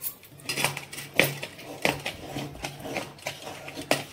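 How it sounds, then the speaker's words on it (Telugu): Jaggery is grated finely in a kitchen for kajjikayalu sweets, a repeated scraping and clacking of metal, roughly every half second, close and fairly loud. "బెల్లాన్ని అయితే ఈ విధంగా తరుక్కోవాలి."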